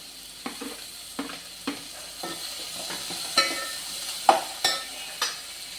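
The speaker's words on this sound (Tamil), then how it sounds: "சின்ன வெங்காயம் நல்லா வதங்கட்டும். இப்போ அது கூட நம்ம இஞ்சி பூண்டு பேஸ்ட்டு வச்சுருக்கிறோம், அதை போட்டுக்கலாம்" Small shallots sauté with ginger-garlic paste in a pan for Chettinad pakoda kuzhambu, a soft steady sizzle broken by repeated spatula scrapes and taps every half second or so, close by and without speech.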